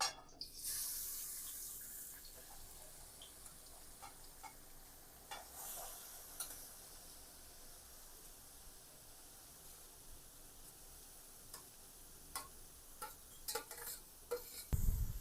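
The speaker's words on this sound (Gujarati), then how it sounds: "આપણું ઘી ગરમ થઈ ગયું છે એની અંદર જે આપણે ગાજર છીણીને લીધા તે એડ કરશું" Grated carrots tipped into hot ghee for gajar halwa, giving a bright rush of sizzling that settles into a quiet steady frying hiss, with a few sharp clinks and stirring scrapes toward the end; no talking.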